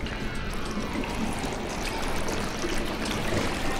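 Water being lifted in the game Conan Exiles, a steady rushing, streaming wash of water that continues evenly throughout without talk.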